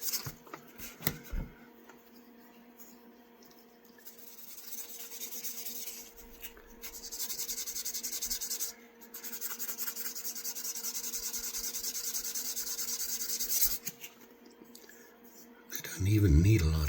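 Quiet, steady rubbing hiss of sanding on old Cutler knife handles, with light touches that pause and resume a few times, ending in a louder rumbling burst.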